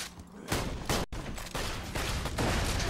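Rapid gunfire from the video game Borderlands 2, a dense, loud barrage of overlapping shots that continues almost without pause, with only a brief gap near the middle.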